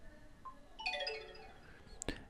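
A WhatsApp call ringtone plays as a short bright melodic chime of several descending tones, ending in a sharp, louder tonal hit.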